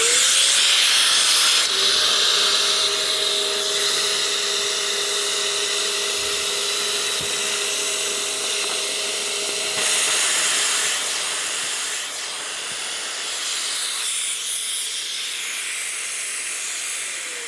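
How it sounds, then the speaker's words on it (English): A Festool dust extractor runs steadily and fairly loud throughout as a broad airy hiss with a faint whine, hooked up to a cordless screwdriver at a woodworking trade fair; a thin tone rises briefly over it, with no talk. "activate the vacuum."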